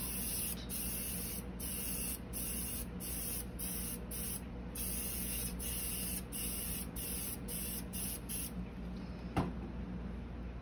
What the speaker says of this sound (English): keep the spray very light, just a light mist